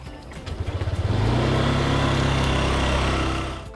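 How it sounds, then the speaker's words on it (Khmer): A motorbike engine idles in quick pulses, then revs up and holds a steady, loud drone as the bike rides off close by. "ជិះម៉ូតូលឿនតិចណា"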